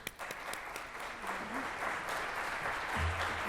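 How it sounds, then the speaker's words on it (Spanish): Audience applause for a speaker taking the stage at a regional HR congress, sustained crowd clapping throughout with a faint voice briefly audible beneath it. "Un aplauso, por favor."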